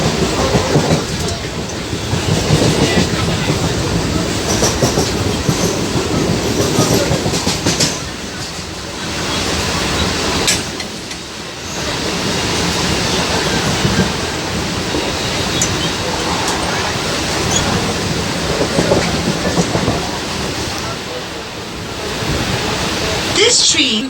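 A moving train rumbles loudly and continuously with rhythmic clacking of wheels, heard from inside a carriage, with voices faintly mixed in.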